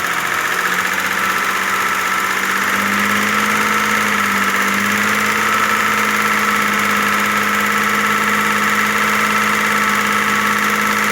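An Audi A6 engine idles steadily with a low, constant hum and a faint rhythmic ticking knock from the hydraulic lifters running through it.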